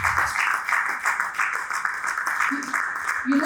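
Audience applause at a summit in Port Harcourt, a steady, dense round of clapping holding at an even level throughout, with some voices mixed in.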